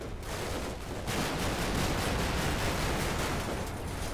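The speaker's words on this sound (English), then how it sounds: "Deploy the freaking launcher." Rocket launcher fire in the Combat Mission war game during an urban battle, a loud blast followed by a sustained rumbling roar of fire and explosions, no talk.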